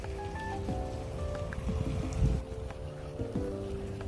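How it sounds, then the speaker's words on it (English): Wind blowing outdoors, a steady rushing buffet across the microphone with a brief gusty swell midway, fairly loud and continuous with no voices. "Is it getting windy out here or something?"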